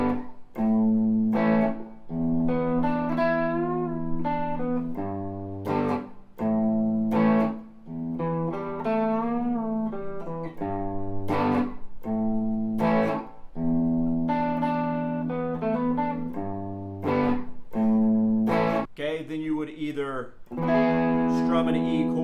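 An electric guitar with distortion plays the bridge of a song, a run of punchy distorted chords and short riffs in a fast rhythm, loud and close, with no voice over it.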